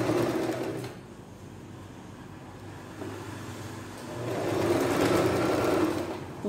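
Sewing machine stitching a blouse, a fast mechanical whirring chatter up close that slows and eases in the middle, then speeds back up to a steady run.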